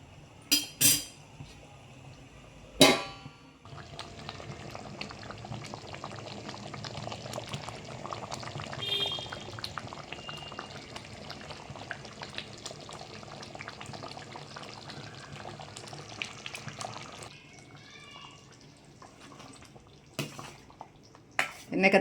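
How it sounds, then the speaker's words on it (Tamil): Eggplant curry bubbles and simmers steadily in a covered pot, bracketed by a few sharp metallic clanks of a lid or utensils near the start and end. "இப்போ வந்து குழம்பு கொதிக்கணும்."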